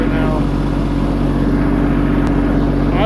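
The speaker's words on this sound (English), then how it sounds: "This would have taken hours without the snowblower." A tractor-mounted snowblower runs continuously and loudly during a snowstorm, its engine giving a steady low rumble with a constant whoosh as it blows snow.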